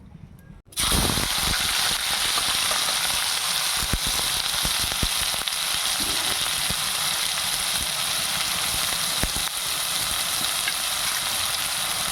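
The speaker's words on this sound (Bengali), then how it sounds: "পেঁয়াজটা ভেজে নেব।" Loud, steady sizzle of onions frying in hot oil, starting abruptly after a brief quiet moment and continuing evenly throughout, with no talking.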